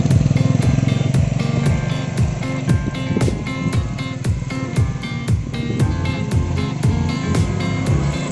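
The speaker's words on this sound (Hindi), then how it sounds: "we hand over our bike to Pranav and now he is enjoying" A motorcycle is ridden through the hills of Pachmarhi, its engine close and loud throughout, with a steady throbbing exhaust note and regular rhythmic pulses as it keeps up speed.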